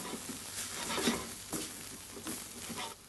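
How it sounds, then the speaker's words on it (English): Rice toasting in olive oil in a risotto pan, kept moving with a spoon: a soft steady sizzle with scraping stir strokes at intervals, close and quiet, no voices. "very lightly toast it, and there's still a bit of oil in here, so that wants to really coat all of the rice particles"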